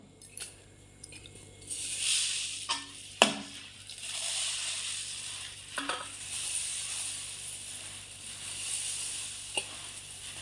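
Puffed rice is stirred into hot jaggery syrup in a pan for laddus, giving a soft, continuous crackling hiss broken by a few scraping thumps and light clinks of the spoon against the vessel.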